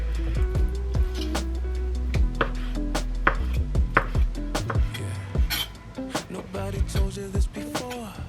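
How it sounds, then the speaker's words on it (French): Salmon sliced with an Ikea kitchen knife: a quick run of sharp, close chopping knocks on a board, steady then more scattered, with small clinks between strokes. "Je commence par couper mon saumon avec mon super couteau Ikea que je n'ai jamais utilisé."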